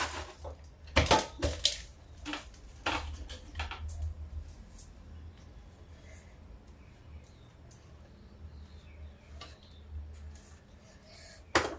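Shredded cabbage leaves rasp against a large metal grater into a bowl of gram flour in a home kitchen, in quick scraping bursts, loudest early on and then lighter and more scattered strokes.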